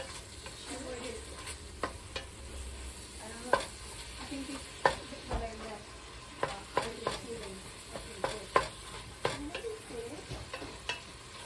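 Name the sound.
busy kitchen background noise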